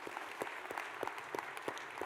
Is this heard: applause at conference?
yes